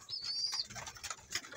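Pigeons in a loft of purebred Kalapatids, with soft cooing and faint fluttering, chirpy calls close by and intermittent over quiet background.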